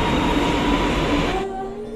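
Riding inside a Lucknow metro train, a loud continuous rumble of wheels on rails with a rising squeal as the noise drops off near the end, no talk.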